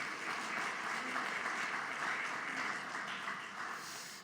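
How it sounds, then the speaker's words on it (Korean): A church congregation applauds in celebration during a Sunday worship service, a steady wash of many hands clapping at moderate distance that holds evenly for a few seconds and then tapers slightly. "축하하는 박수 한번 했으면 좋겠습니다."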